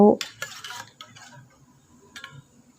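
A utensil clinks and scrapes against a pot of Thai braised eggs with chicken drumsticks in a few quick bursts, with a soft simmer underneath and brief pauses between strokes.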